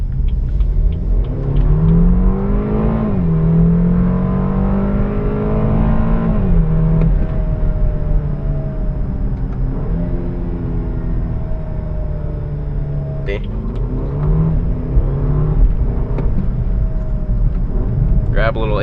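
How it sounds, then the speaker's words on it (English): A BMW 328 driven hard on a winding road, its engine rising and falling in pitch through the gears under steady in-cabin rumble, with a person talking over it throughout. "Let's go through a nice little spirited drive here,"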